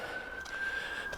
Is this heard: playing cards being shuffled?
no